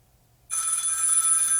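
A telephone bell rings loudly and steadily after a brief silence, a bright continuous electronic trill filling the rest of the moment with no talk.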